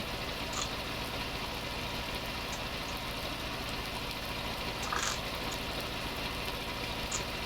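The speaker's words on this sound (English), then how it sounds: "we will put the drone up so you can see the tractor working from outside" A David Brown 990 tractor engine labours steadily through a fertilizing run while rain lashes down, its dull mid-pitched drone blending into a constant wash of rain noise, with a few faint knocks and no voices.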